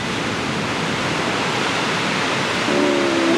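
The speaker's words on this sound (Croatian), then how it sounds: "vidi kako pada voda tamo, gledaj" A waterfall on the Rječina river near an old border stone pours with a constant, even roar of rushing water that sounds fairly close and steady, with no speech.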